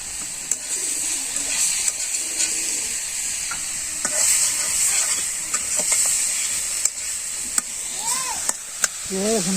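Steady sizzling of leafy greens frying in a pan in a village kitchen, with occasional stirring scrapes and faint bird calls in the background.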